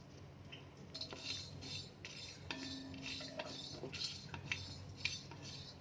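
Almonds and nutmeg pieces dry-roast on a flat iron griddle over a gas flame, stirred with a metal spoon that scrapes and clinks steadily against the pan at close range.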